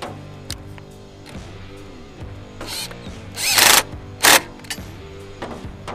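A power drill driving a bolt during a rope installation, whirring in short bursts with two louder, higher-pitched surges near the end, heard close up with no talk.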